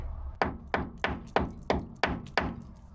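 Seven sharp, evenly spaced hammer strikes on the body of a Rover P6 2000 car, each a solid metallic thunk with a short ringing decay, close by.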